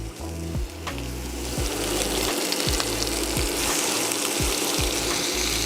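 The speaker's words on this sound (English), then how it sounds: "we're gonna start introducing our short ribs. So we want to brown them, so I'll just put them here." Beef short ribs browning in a pan on an induction hob give a steady close sizzle and crackle that holds for several seconds, with a low electrical hum from the hob underneath and no one talking.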